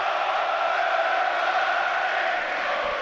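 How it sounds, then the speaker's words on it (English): A dense, steady roar of a large football stadium crowd at an FA Cup match between Brighton & Hove Albion and Grimsby Town, loud and continuous with a broad wash of voices blending together. "Listen to the crowd, the tide from both sides really making the noise."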